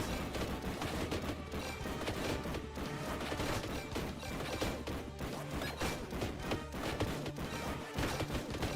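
Rapid bolt guns fire in a Warhammer video game, a dense, continuous barrage of loud crashing shots and impacts with no pause, layered over a steady low rumble.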